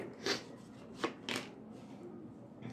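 Tarot cards shuffled by hand, three or four soft, quick riffling bursts spaced apart, faint and close with quiet room tone between them.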